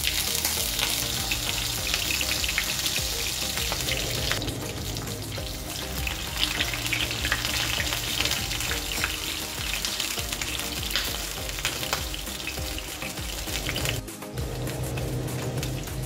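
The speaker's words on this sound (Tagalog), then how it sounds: "dahil mainit na yung ating kawali, ilalagay na natin yung ating chicken patty" Frozen chicken patty sizzles and crackles steadily in a hot pan, a loud continuous fry heard up close with no talking.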